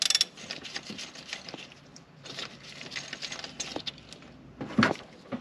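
A ratchet with a T50 Torx bit loosens a bolt on a BMW X5 4.8i E70 during an alternator replacement. Faint, intermittent mechanical clicks and scrapes come in short bursts, close by and quiet.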